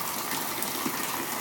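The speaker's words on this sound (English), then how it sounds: "That's just pouring down here." Heavy rain pours down outside a house, a loud, continuous rushing wash of water with no voices.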